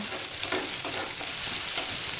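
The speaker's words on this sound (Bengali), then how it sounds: "এখন একটু ভালোভাবে নেড়ে চেড়ে দিতে হবে" Beaten egg batter spread in a frying pan hisses steadily while a utensil stirs it in quick repeated strokes, close by and without speech.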